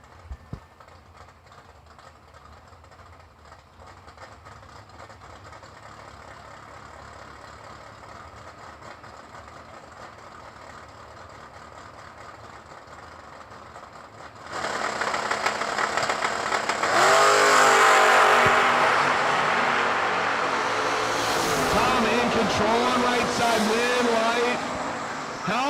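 Drag racing engines from a Camaro and an S10 pickup truck idle and rumble at first, then surge into a loud, rising roar with revving bursts as they launch; an announcer talks over the noise throughout.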